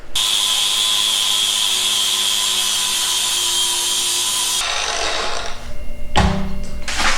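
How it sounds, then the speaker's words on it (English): An angle grinder fitted with a flap disc, stripping rust from metal, holds a loud, steady high whine for several seconds, then cuts off and gives way to a few clattering knocks. "what I've been using so far to get the rust off is flappy paddle on my angle grinder."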